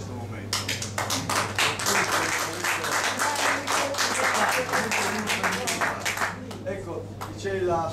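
Applause from an assembly at a trade union congress in Livorno, a steady wash of clapping from a gathered crowd, with a low hum underneath and voices murmuring through it.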